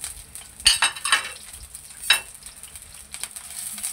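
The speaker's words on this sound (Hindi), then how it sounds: "प्याज हमने भी 2-3 मिनट से ज़्यादा फ्राई नहीं करना है" Onions sizzle in a pan of hot oil for a masala okra dish, a soft steady fry broken by a few sharp scrapes and clinks of a spoon stirring.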